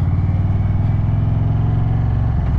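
A 2021 Indian Roadmaster Dark Horse motorcycle with Roush exhaust idles with a deep, throbbing exhaust rumble, steady and close, with a slight rev near the end.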